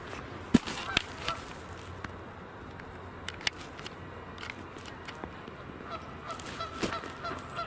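Geese honk repeatedly outdoors, several sharp calls scattered across the stretch at varying distances over a soft background hush.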